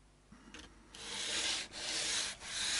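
Worn sandpaper rubs against a guitar nut for a Harley Benton SC Custom, a steady close scratching in back-and-forth strokes with brief gaps between them.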